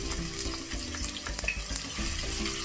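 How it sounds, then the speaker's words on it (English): One whole onion fries in oil in a pan, a steady close sizzle with occasional stirring scrapes and clicks throughout, no voices. "the first thing that you want to do is fry your onions"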